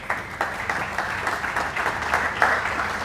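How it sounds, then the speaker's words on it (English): Audience applause for a speaker coming onstage at a conference session in Tel Aviv, a moderate, steady patter of many hands from a crowd at medium distance, lasting throughout. "So big round of applause for Gillian,"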